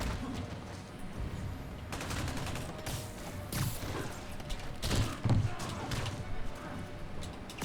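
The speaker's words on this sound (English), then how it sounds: "That is a rocket launcher." Explosive blasts and thumps of rocket launchers firing in a video game, layered over a constant rumble of battle noise, with a few sharper impacts near the middle and talk mixed in.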